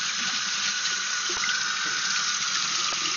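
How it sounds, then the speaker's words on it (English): A tap runs steadily into a sink while a mop is rinsed under it, a constant close hiss of flowing water with a couple of faint knocks. "Let me rinse this mop."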